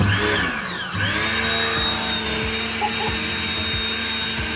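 A homemade electric pressure washer sprays a bike: a steady motor whine and hiss of water runs throughout, with a pitch sweep early on and a few short thuds and knocks scattered over the spray.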